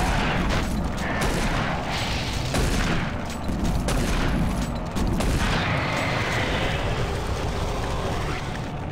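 Repeated shotgun fire in Doom 3: BFG Edition booms against barons in a loud, crowded barrage of blasts and rumbling impacts, nearly unbroken for the whole stretch.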